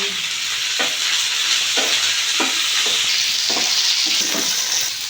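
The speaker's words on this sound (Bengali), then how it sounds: "পেঁয়াজটা ভালো করে ভেজে নিয়েছি" Onions frying in a pan for rohu fish kalia, a loud, continuous sizzle up close, broken every second or so by the scrape of a spoon stirring, with no voices.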